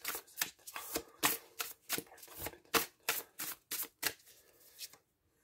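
Tarot cards shuffled by hand at close range in quick, repeated riffling bursts that stop abruptly near the end.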